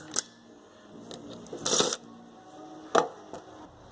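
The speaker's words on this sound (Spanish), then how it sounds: "Entonces procedemos a quitar estos tornillos. Son de entrada Torx." Torx screws come out of a car's power window regulator assembly during a repair, with a few sharp metallic clicks and clinks, one short scraping burst and a steady low hum in the background, with no talking.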